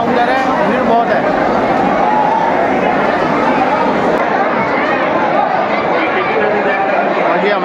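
A dense crowd presses around a temple ticket counter, giving a steady, loud wash of overlapping voices and chatter from all sides that lasts throughout.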